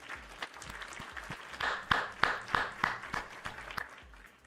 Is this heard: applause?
yes